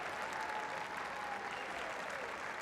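A basketball arena crowd at a girls' state championship game gives a brief, steady round of applause, a dense wash of clapping that stays even and distant throughout.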